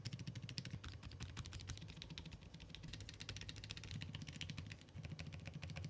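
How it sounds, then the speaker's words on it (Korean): Typing on a Monstar Gear Ninja low-noise mechanical keyboard, a rapid, steady stream of soft, muted key clacks close up with no voices. "다음은 저소음 키보드로 확인해 볼게요."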